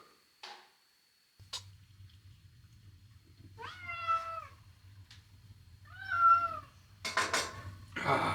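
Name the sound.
cat meowing to go out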